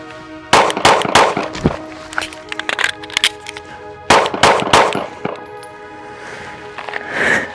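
Shadow Systems CR920 pistol fires in two quick strings of sharp, loud shots outdoors during a reload drill, separated by a pause with light handling clicks and clinks.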